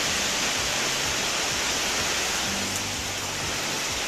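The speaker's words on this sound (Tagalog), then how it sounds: "sa gabi hanggang ngayon magdamag ulan pa rin" Heavy overnight rain pours steadily on a farm with corn fields, a loud, dense, unbroken roar with wind and a low rumble beneath.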